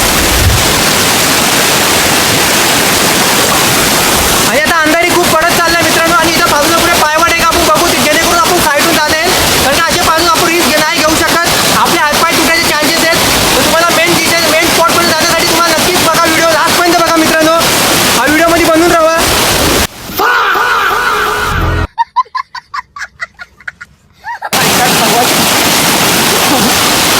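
Swollen river water rushes loudly in a continuous roar where two streams merge below Bokadkada waterfall at dusk. A voice talks over the torrent before the sound briefly cuts near the end.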